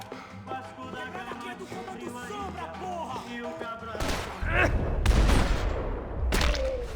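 Pistol gunfire in Max Payne 3, several sharp shots cracking over music, then a cluster of heavy bangs and booms growing louder toward the end.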